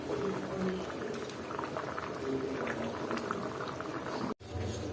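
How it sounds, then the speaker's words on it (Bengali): Mutton and potato curry bubbles at a steady boil in a pot, a close, continuous gurgling and popping throughout, with a brief cut near the end. "এটা মোটামুটি বলক চলে আসছে"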